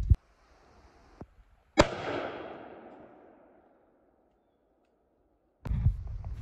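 A rifle fires regular .223 ammunition at a steel I-beam outdoors, one loud sharp shot with a long rolling echo that fades over a few seconds, bracketed by a few closer knocks and handling thumps.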